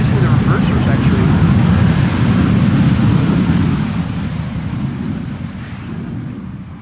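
A KLM airliner landing at Amsterdam Schiphol in gusty crosswind conditions, thrust reversers roaring as a loud, broad rumble that gradually eases, with wind buffeting the microphone.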